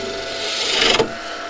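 Wood-turning gouge making a back cut on a lathe while a sphere box is being turned, giving a continuous close scraping rasp that builds and peaks briefly near the end, with no talk.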